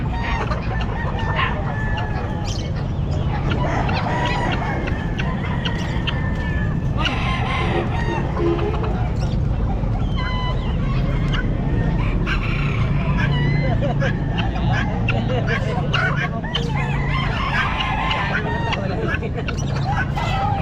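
At the busy Baliuag pet market, roosters crow repeatedly and chickens cluck loudly and close, over a constant babble of people talking and some passing traffic.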